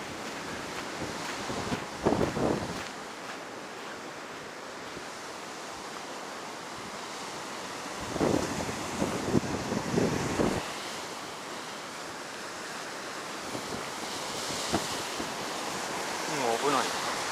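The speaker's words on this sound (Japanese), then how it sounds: "すごいね、海。" Rough ocean surf rolls in at Kujukuri Beach in Japan after a typhoon, a steady roar with surging wave crashes, while strong wind buffets the microphone throughout.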